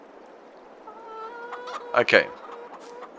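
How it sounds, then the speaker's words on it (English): A chicken in a farming video game, Farming Simulator 22, gives a few clucks and a short squawking burst over quiet background noise, with a brief spoken word. "This chicken is running in slow motion."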